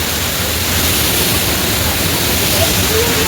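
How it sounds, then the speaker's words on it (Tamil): Heavy rushing water pours continuously in a dense, loud broadband roar that stays steady throughout, like a strong flow of water close by. "தண்ணி பாருங்க எவ்வளோ தண்ணி வருதுன்னு"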